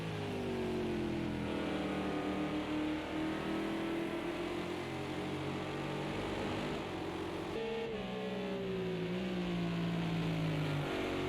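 A GT3 Porsche race car engine in Project CARS 2 at Laguna Seca drones continuously, its pitch rising and falling through gear changes and corners, with no voices over it.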